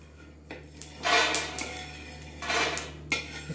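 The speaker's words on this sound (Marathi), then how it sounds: "शेंगदाणे आपण काढतो।" Roasted peanuts being scooped out of a pan for chutney: a few close bursts of metal scraping and clattering against the pan, with no talking.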